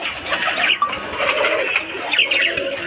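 Pigeons for sale crowd a loft, with steady cooing and soft bird calls running throughout the clip, fairly close and moderately loud.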